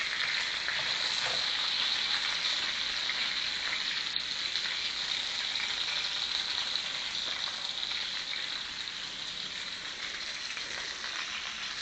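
Eggs fry in a pan with plenty of oil, giving a steady bright sizzle and crackle that runs continuously and close, easing slightly near the end with no talking.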